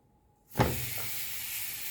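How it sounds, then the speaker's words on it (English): Silence, then a sudden loud sizzle as minced meat hits a hot pan, settling into a steady close hiss. "Yeah, that's sizzle."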